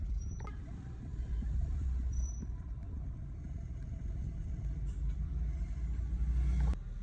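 A Honda Vezel engine idles just after starting, at about 1100–1200 rpm following throttle cleaning and a random-misfire repair: a steady, even low rumble with a sharp click near the end.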